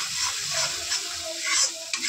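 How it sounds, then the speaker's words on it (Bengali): Onion, tomato and spice masala with chilli powder, turmeric, coriander powder and a pinch of sugar sautéing in a pan, a steady close sizzle broken by scraping stirs of the spatula, with no talk. "ভালো করে কষিয়ে নেব"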